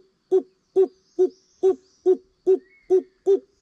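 A man imitates the Malabar barbet's call with a low hooting voice, repeating eight short evenly spaced hollow notes in a steady rhythm, close and clear with no talk.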